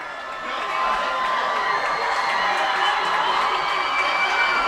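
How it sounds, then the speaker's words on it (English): A big football stadium crowd of Bulldogs fans roars and cheers wildly during a punt, a dense, sustained wall of shouting that swells and holds loud throughout. "Bulldog crowd starting to go wild."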